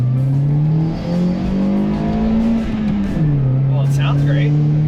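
A modified Toyota Yaris fitted with a 2.5-inch race performance cat and a TRD Camry exhaust revs up close. The engine note swells and dips in a loud, continuous drone, with voices faintly audible underneath.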